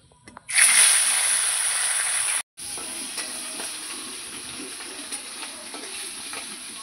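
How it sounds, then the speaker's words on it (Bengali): Pomfret fish frying in hot oil gives a bright, steady sizzle that starts loud, cuts out briefly, then settles into a softer continuous hiss with faint crackles. "এই যে এই মাছটাও কিন্তু আমার ভাজা হয়ে গেছে"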